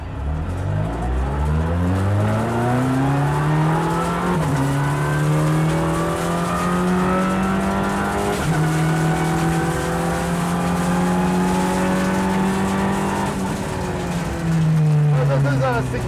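A Volkswagen race car with a sequential close-ratio gearbox does a launch start: a loud, sustained engine drone held at high revs, then climbing through two gear shifts with brief dips between rising pulls, close and continuous.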